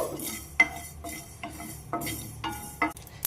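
Cumin seeds and spices dry-roasting in a pan, stirred with a metal spoon that scrapes and clinks against the pan in several short, fairly close strokes over a faint background.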